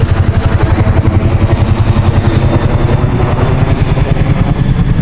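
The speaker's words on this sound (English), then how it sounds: "If you hear the noise above me, that's a helicopter." A helicopter thuds loudly overhead, its rotor beating in a fast, steady rhythm throughout.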